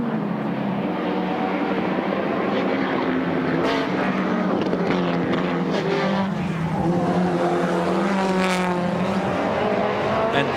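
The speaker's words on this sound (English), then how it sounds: "Oh, George using every little skerrick of road on that occasion." Touring race cars, including BMW M3s, race at the 1987 James Hardie Bathurst 1000 at Mount Panorama. Engines roar loudly and continuously with rising and falling pitch as cars pass close by, with a brief high tyre squeal.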